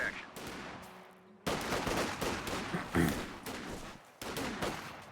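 Infantry rifle and machine-gun fire from a Company of Heroes 2 battle between a Rifleman Squad and Volksgrenadiers, dense overlapping bursts and single shots at moderate loudness, with brief gaps between volleys.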